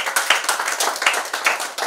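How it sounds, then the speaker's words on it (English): An audience at a school debate claps for the best speaker, a short burst of rhythmic hand claps, close and fairly loud, lasting under two seconds with no talking. "I'd like you to clap your hands once more for that."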